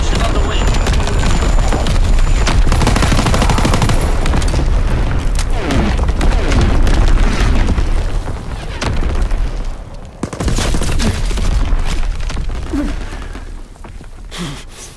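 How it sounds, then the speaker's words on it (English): Bombing run explosions in the Call of Duty WWII video game, a dense, loud barrage of booms and gunfire that rumbles on almost continuously, dipping briefly before resuming, with faint voices mixed in. "Next bomb mission on the way."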